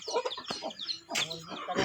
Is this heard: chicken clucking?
yes